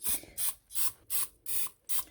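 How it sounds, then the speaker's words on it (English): Non-stick cooking spray released from an aerosol can in six short, evenly spaced hissing bursts, close and fairly quiet, with no talking. "I'm also using some non-stick cooking spray."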